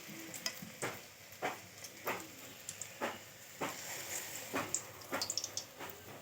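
Food frying in hot oil in a kadai, a soft continuous sizzle broken by repeated scrapes and light metallic clinks of stirring, fairly quiet and close with no talking.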